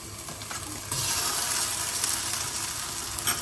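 Pork is stirred in a pan with Goan red masala, giving a steady broadband sizzle and scraping that grows louder and denser after the first second and continues without pause.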